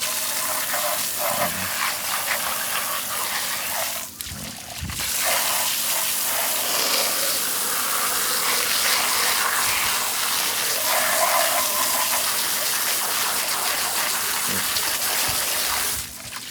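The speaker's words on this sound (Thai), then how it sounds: "ปล่อยไว้สักแป๊บก็ฉีดน้ำล้างออกนะครับ" A steady gush of water sprayed over a solar pump control box to rinse it out, running continuously at close range with a brief break partway through and no talking.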